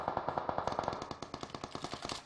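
Rapid automatic gunfire from PUBG Mobile rattles off in a steady burst of about twenty close, loud shots over a couple of seconds, with no talk over it.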